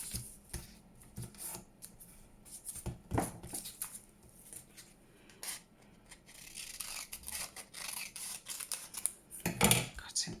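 Paper being cut with scissors to make a small folded tab for a handmade folio, a run of crisp, close snips and rustling handling sounds.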